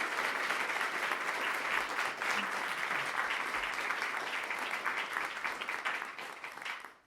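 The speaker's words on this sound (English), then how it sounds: "could you please give me a round of applause for our two" An audience at a history talk on the presidency applauds the two speakers, a sustained dense patter of many hands clapping, steady and moderately loud before tapering off at the end.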